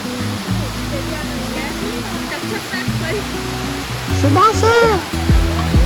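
Vattakanal waterfall near Kodaikanal pours as a constant broadband rush of flowing water. Voices and tonal sounds carry over the steady roar.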